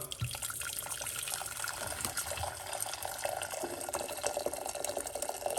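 Water pours steadily for Jamaican cornmeal porridge, a continuous broadband rush and trickle at moderate level that fills the whole clip, with no talking over it.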